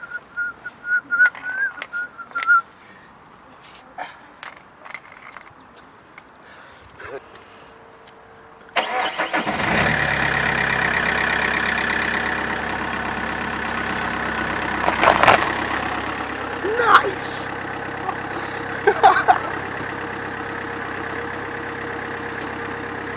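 A car engine starts after some faint handling noises, then settles into a steady close idle and low rumble as the car drives over an Odepro KL41 torch, with a few louder bumps and clunks partway through.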